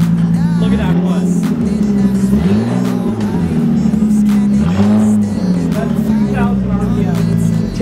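An Audi A4 with a straight pipe exhaust revs loudly with a deep, droning engine note that rises and falls in a few short blips over a steady idle, close up, with voices talking faintly.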